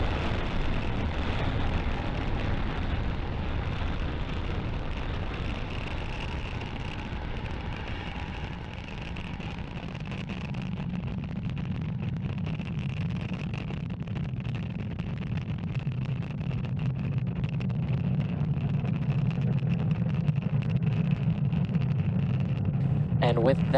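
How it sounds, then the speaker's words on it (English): A SpaceX Falcon 9 carrying Starlink satellites lifts off with a continuous deep, roaring rumble that swells toward the end, heard under a voice talking over the launch. "successful liftoff of our Starlink satellites on our Falcon 9 vehicle"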